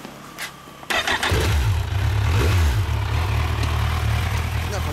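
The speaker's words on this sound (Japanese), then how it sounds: "ほんならエンジンかけてもらいます" A motorcycle engine is started at a Japanese bike meet featuring Kawasaki Ninja 1000, ZX-10R and GPz400 machines. It cranks, catches loudly near the one-second mark, then settles into a steady, close, throbbing idle with a brief rev.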